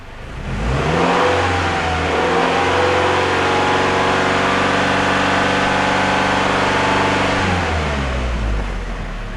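A car engine with a lean condition from an exhaust leak rises from idle to a sustained high rev, holding a loud, steady droning pitch for several seconds before dropping back, alone with no talk.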